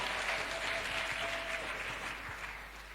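A church congregation applauds steadily, a dense, continuous clapping that fills the space for the whole stretch without letting up.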